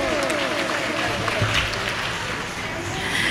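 An audience at a community gathering claps together in one dense burst of applause that lasts throughout, with voices mixed in.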